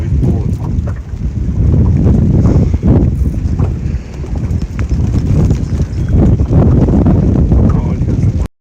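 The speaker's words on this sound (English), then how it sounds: "It's windy." Wind buffeting a camera microphone during rain while hog fishing from a boat, a loud, constant low rumble and thumping that dominates the whole stretch and drowns out everything else.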